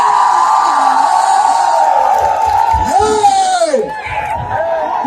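A large crowd at a motivational rally roars and cheers, with yells and whoops rising over a steady wall of voices, loud and close throughout.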